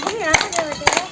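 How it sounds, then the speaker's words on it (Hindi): An audience claps at a health talk, with a few sharp bursts of hand claps between stretches of voices and tonal speech-like sounds. "ताली बजा लीजिए, बीच बीच में ताली बजाते रहिए"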